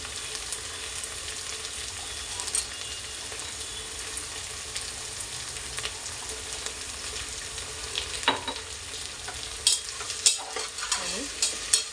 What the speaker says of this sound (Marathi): आपण थोडेसे शेंगदाणे टाकणार आणि परतू देणार आहोत.